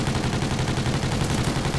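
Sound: gunfire in video game Call of Duty: Ghosts

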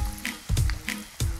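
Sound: tempura frying in oil

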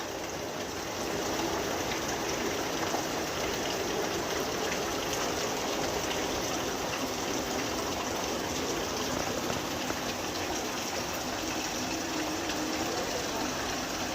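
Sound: rain falling

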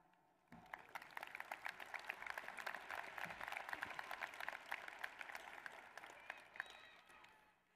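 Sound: audience applause at a high school graduation

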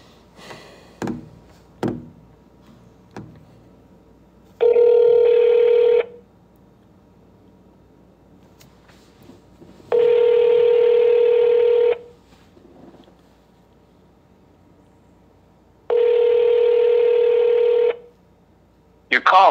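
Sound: telephone dialing tones for a prank call

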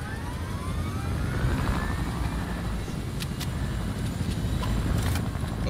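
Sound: helicopter in Fortnite video game

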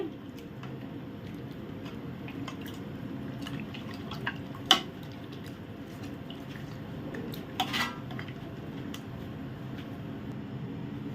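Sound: stirring mutton curry in a pot

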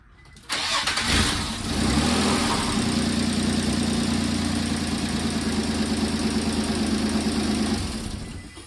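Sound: 2003 Nissan Altima 3.5 engine running

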